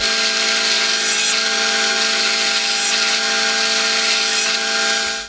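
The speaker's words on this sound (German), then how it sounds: "Jetzt werde ich mit einem 4er Bohrer mit Senkkopfschneide direkt Löcher vorbohren" A power drill with a 4 mm countersink bit bores pilot holes into wood for a workshop French cleat wall. A loud, steady, whining drone runs unbroken for about five seconds, close up.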